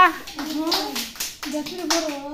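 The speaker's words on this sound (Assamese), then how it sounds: "তালি দিয়া সকলে তালি দিয়া" A group of young children clapping their hands at an Anganwadi rhyme session, with short, uneven claps mixed with children's singing voices.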